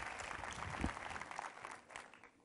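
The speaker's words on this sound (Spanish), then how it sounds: "Un fuerte aplauso para Tony, que se oiga." Applause from a small room audience welcoming a remote guest on a video call, a steady patter of clapping that is faint and distant and fades out toward the end.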